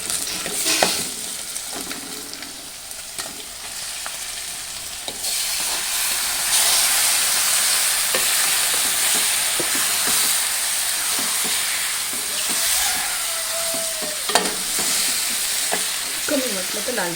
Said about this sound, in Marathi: लाल तिखट मसाला थोडासा तेलामध्ये परतून घ्यायचा, त्याच्यामध्ये ते मटण परतून घ्यायचं